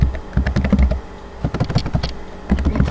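A command is typed on a computer keyboard, a quick close run of clicking keystrokes in short bursts with brief pauses between, heard alone.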